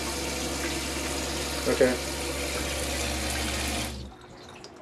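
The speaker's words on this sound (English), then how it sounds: "You can fill it up a bit and then unplug it." Faucet running into an RV kitchen sink in a Class C motorhome, a steady broadband rush of water filling the basin that cuts off near the end, with a brief spoken word over it.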